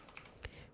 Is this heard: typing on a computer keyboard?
yes